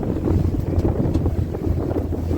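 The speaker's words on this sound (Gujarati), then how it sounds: "બોટમાં અમે જઈએ છીએ હવે અંદર." Boat riding out on the sea off Dwarka: steady engine rumble and wind buffeting the microphone, with water rushing along the hull, loud and continuous throughout.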